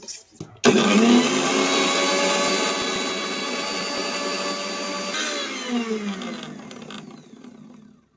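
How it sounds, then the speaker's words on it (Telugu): An electric mixer grinder grinding biscuits and sugar whirs to life with a loud motor roar, runs steadily for several seconds, then winds down and fades to a stop. "బిస్కట్లోను పంచదార కూడా నేను మిక్సీ పెట్టేసుకుంటున్నాను"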